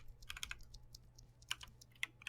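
Typing on a Royal Kludge RK61 budget mechanical keyboard, a quick irregular run of crisp, sharp keystroke clicks, close and fairly quiet, with a few louder isolated presses.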